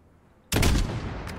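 A single sniper rifle shot in the shooter game Call of Duty: Modern Warfare, set at a desert crossroads: silence broken by one sudden loud crack with a booming tail and a brief follow-up echo.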